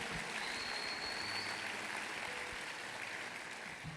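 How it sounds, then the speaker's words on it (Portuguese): Church congregation applauding during a Sunday service in Curitiba, a steady broadband wash of clapping that holds evenly throughout with no talk over it. "Dê mais uma salva de palmas a Ele"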